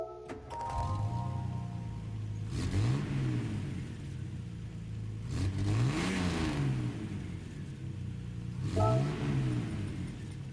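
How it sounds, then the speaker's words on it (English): A 1960 Plymouth XNR Ghia Roadster engine in Gran Turismo 7 cranks and revs three times in steady succession, each rising whine settling into an idle rumble, with no talking. "we'll listen to the startup sound"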